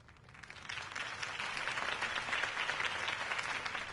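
A crowd breaks into applause in the video game Batman: The Enemy Within, building quickly from a few claps to sustained, dense clapping that holds steady.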